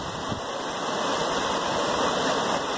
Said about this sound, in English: This is the highest the creek has been since March 13th of 2010